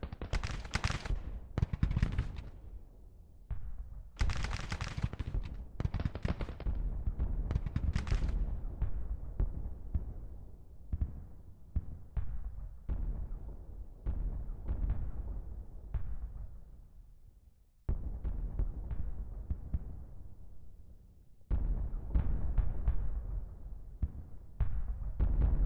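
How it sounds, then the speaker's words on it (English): Cannon fire in a Civil War–era artillery duel in Grand Tactician: Confederate 1863, a series of sharp booming reports at irregular intervals, some loud and close, others softer and more distant, with fading rumbling tails. "Got an artillery duel going on here."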